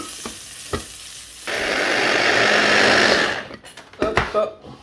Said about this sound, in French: Allez, on va la mixer.